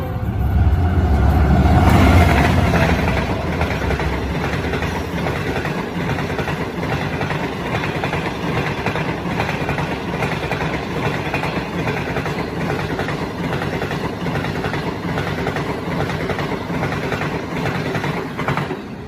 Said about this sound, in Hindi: देखो किस तरह से कितनी स्पीड से ट्रेन जा रही है।